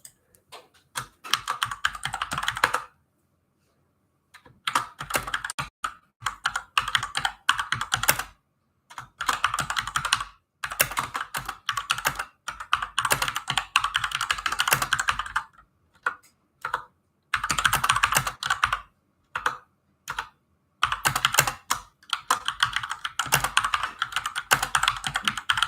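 Someone types on a computer keyboard during a live stream, with bursts of rapid close clacking keystrokes broken by short silent pauses, loud and without any talk.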